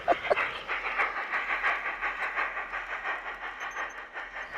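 German LGB G-scale garden railway trains running outdoors, a steady rhythmic rumble and clatter of wheels on track with soft hissing, continuous and moderately close.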